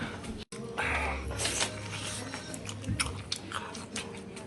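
Close-up chewing of dumplings during a mukbang eaten outdoors, soft wet bites and mastication sounds, fairly quiet with light background noise.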